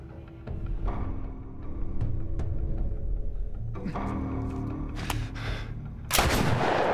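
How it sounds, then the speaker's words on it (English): Single-shot El Diablo revolver fire in The Last of Us, with several sharp, loud reports spaced irregularly over a steady background of game ambience, ending in one big, broad blast. "One off headshots with the El Diablo is fucking great."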